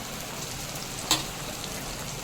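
Capsicum frying in a pan with garlic, ginger and lightly fried onion for a tomato pasta gives a steady, soft sizzle throughout, broken by one brief sharp click near the middle, with no voices.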